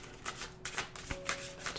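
Tarot cards shuffle in a steady series of soft papery flutters, close and fairly quiet, with no voices.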